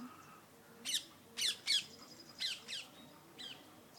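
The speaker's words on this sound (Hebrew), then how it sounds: "שמעת ציפורים?" Several short, sharp bird calls ring out at irregular intervals, fairly close, over a quiet background with no talking.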